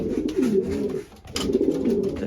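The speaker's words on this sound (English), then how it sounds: "Here are the male birds." Male racing pigeons coo inside their loft, a near, steady layered cooing from several birds that breaks off briefly and then swells back up, with no talking.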